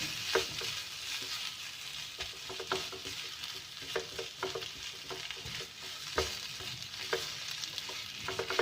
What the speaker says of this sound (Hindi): इसको मिक्स करेंगे ताकि मसालों का कच्चापन दूर हो जाए।